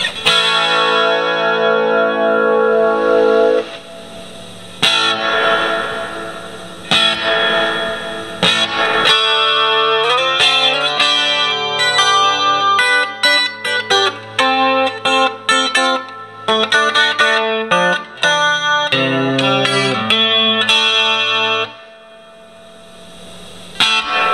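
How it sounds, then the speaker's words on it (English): Electric guitar played through a 30-year-old Roland JC-120 amp with a shimmering chorus effect, sustained chords and picked notes ringing out loudly over the amp's hiss, fading near the end. "plugged this thing into a new power line, and this is on chorus right now"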